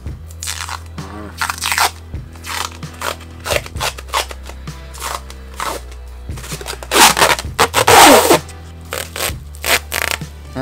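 Large industrial stretch wrap film roll being wrestled with by hand, giving repeated crinkly crunches, scrapes and plastic crackles in irregular bursts, loudest in a dense flurry near the middle, with no talk over it.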